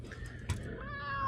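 A house cat meows in a garage workshop, a single short call near the middle over a steady low hum and faint background noise, with no talking.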